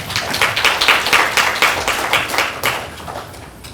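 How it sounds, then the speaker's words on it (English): Audience at a town hall in Rocky Mount, North Carolina, clapping in a close, lively burst of applause that holds steady for a few seconds and then thins slightly. "Give them a round of applause as they come on out."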